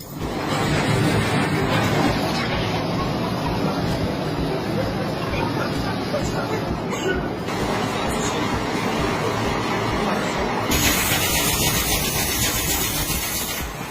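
Small gas-powered jet engine on a homemade helicopter runs with a continuous loud roaring hiss, steady and close, its tone shifting slightly partway through as the flow changes.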